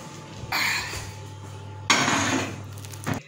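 A metal pan is handled while meat is taken out of the oven, giving two clattering bursts about a second apart, then a short knock at the end against a steady oven hum.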